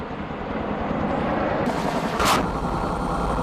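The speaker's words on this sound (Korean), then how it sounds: "이어지는 제자리 비행 사격." A Cobra attack helicopter fires while hovering, a dense rumbling rattle of fire under the rotor noise with a sharper burst of sound near the middle, heard at a distance.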